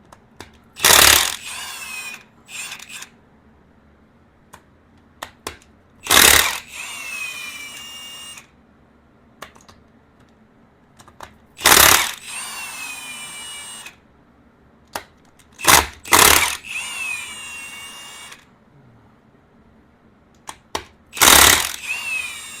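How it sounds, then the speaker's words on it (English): Milwaukee impact wrench loosening cylinder head bolts on a 2007 Yamaha FJR 1300 motorcycle engine, five loud, close bursts of rapid hammering, each followed by the ratcheting whir of the freed bolt spinning, with quiet gaps between. "This Milwaukee is a beast, so if this don't take them loose, I don't know what will."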